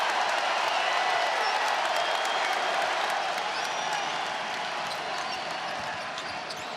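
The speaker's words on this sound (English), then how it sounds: "Hogarth trying to quiet the crowd." Crowd noise fills a college basketball arena at a Michigan State at Illinois game, a loud, dense roar of cheering and applause that holds steady and eases slightly toward the end, with a ball bouncing faintly beneath.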